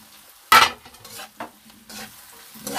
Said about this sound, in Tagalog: Medyo paluto-lutuin natin ang kamatis.